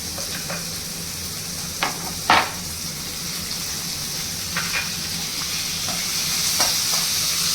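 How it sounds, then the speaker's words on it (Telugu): Chopped tomatoes and drumstick curry ingredients fry steadily in a pan, giving a loud, continuous sizzle broken by a few spatula stirs and scrapes. "అన్నీ బాగా వేగాలి. ఇప్పుడు ఇవి బాగా వేగాయండి."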